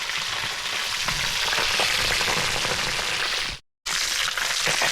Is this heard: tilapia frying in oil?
yes